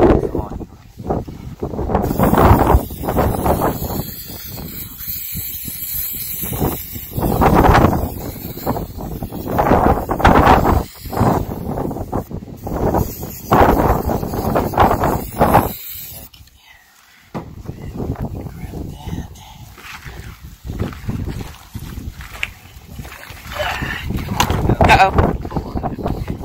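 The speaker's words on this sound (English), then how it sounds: "Almost too windy here." Wind buffets the microphone in gusty, roaring bursts, with people talking nearby beneath it.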